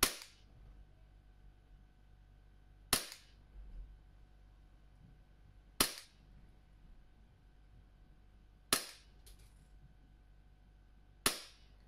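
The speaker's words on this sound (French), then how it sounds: "je fais exprès de tirer doucement entre les tirs pour voir vraiment ce que ça donne pour quand le CO2 est stabilisé dans le chargeur" A Glock 17 Gen3 CO2 airsoft pistol fired slowly, five sharp snapping shots spaced about three seconds apart, crisp and close in an otherwise quiet room.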